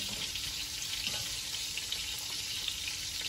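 Homemade ravioli in red tomato sauce sizzles and fries steadily in a pot, a continuous soft crackle at low level with no talking.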